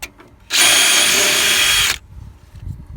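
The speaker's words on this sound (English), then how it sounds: "So right now we're going to remove the last pop rivet." A power drill bores out a pop rivet in car body sheet metal during bodywork on an XR2i, one steady loud whine lasting about a second and a half, with quiet workshop ambience before and after.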